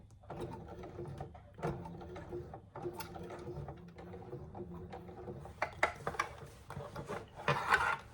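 Sewing machine stitching slowly over a bulky strap connector on a hobo bag, a run of uneven mechanical chattering and thumping with brief pauses, growing louder and rougher near the end.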